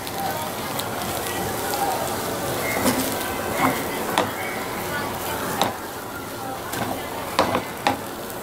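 A pan of tamarind-flavoured upma being stirred, with a steady scraping, sizzling texture and a few sharper knocks of the spoon against the pan.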